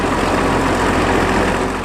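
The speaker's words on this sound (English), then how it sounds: "And here comes the Caterpillar 75." A Caterpillar 75 tractor engine rumbles loudly and steadily at a wet, muddy vintage tractor event, a dense continuous low drone close by with no pauses.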